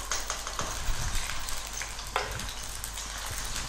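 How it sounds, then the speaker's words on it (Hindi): Masala with ginger-garlic paste, spices and whisked yogurt frying in cooking oil in a pot, giving a soft, steady sizzle with occasional stirring scrapes, close and fairly quiet. "मैं इसको भूनूंगी ऑयल में, और साथ साथ हम इसमें स्पाइसेस और आधा कप दही को फेंट कर शामिल कर देंगे।"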